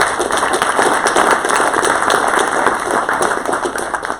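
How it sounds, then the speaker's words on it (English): Members at an annual bicycle coalition meeting applaud, a loud, dense, continuous round of clapping from a large crowd filling the whole stretch with no talking over it. "I'd love for all of you to give yourself a round of applause."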